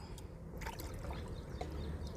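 One gram of plant fertilizer being diluted in one litre of water: a soft, continuous sloshing and trickling of liquid being stirred or swirled, close by, with a few faint clinks and no talking.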